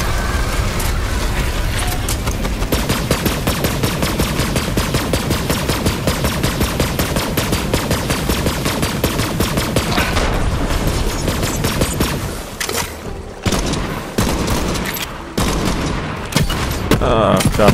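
Rapid, sustained automatic gunfire from Borderlands 3 aimed at an alien dinosaur, a dense stream of loud shots for about twelve seconds that then breaks into shorter bursts with brief gaps.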